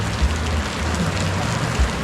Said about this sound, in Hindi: अभी बारिश भी 1 घंटे ही होगी.